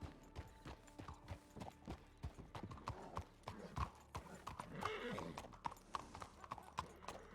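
Horse hooves clip-clopping at a steady walking pace in the video game RedM, faint and regular with an occasional whinny, under soft background sound.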